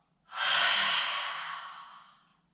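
A single long breath during a yoga exercise, drawn out as a soft, airy rush that swells quickly and fades over about two seconds, close and alone with no talk.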